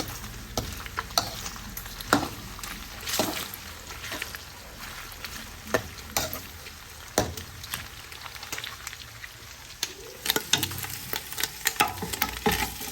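Pork skin chicharon fries in rendered fat with a continuous crackling sizzle and sharp popping bursts, while a utensil stirs and scrapes through the pieces at close range.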